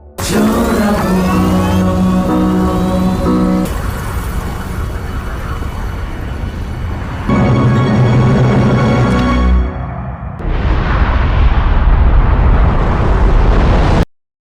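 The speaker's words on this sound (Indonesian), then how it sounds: "melihat ledakan besar di langit" A huge explosion in the sky: a loud, sustained roaring blast with deep rumbling and layered tones shifting over about fourteen seconds before cutting off abruptly.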